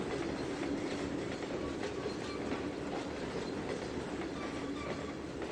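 Seaboard System grain cars roll past in the Trainz 2022 railway simulator with a steady, dense rumble of wheels, faint rhythmic clacking and a touch of wheel squeal, continuous throughout.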